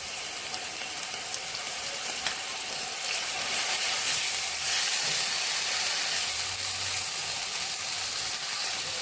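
Ginger garlic paste and spices fry in a pan over low heat, after chopped onions have browned, giving a steady, even sizzle and hiss that runs unbroken at close range with no voices.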